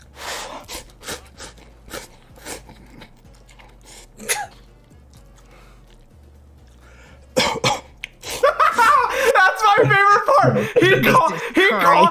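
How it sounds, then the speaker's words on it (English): Someone coughs abruptly while eating noodles amid slurping and eating sounds, followed by choppy, excited vocal noises close to the mic. "He coughs and a noodle comes back out."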